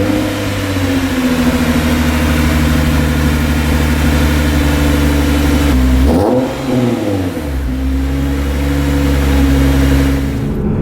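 A 2007 Lexus IS 350 fitted with a carbon fiber air intake on the road, its engine a loud, steady, close drone that dips briefly midway as if shifting gears, then settles and climbs again, with no talk.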